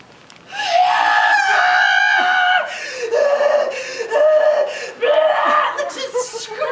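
A woman screams loudly and sustained, with strained, wavering vocal tones broken by short pauses and breaths, recorded live at an anime convention panel.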